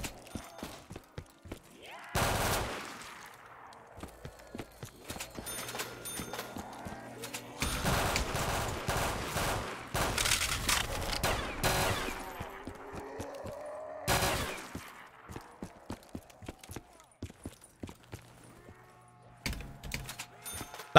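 Gunfire in a zombies video game, with sharp loud bursts and scattered single shots spread irregularly over the stretch and quieter clicks and game sounds between them.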